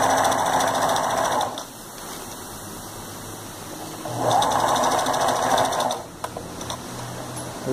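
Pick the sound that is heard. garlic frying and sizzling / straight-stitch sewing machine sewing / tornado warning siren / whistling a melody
straight-stitch sewing machine sewing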